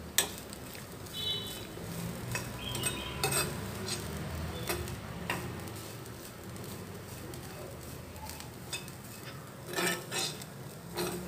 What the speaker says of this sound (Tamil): இப்போது தேங்காய் துருவலை செவக்க வறுத்துக்கலாம்.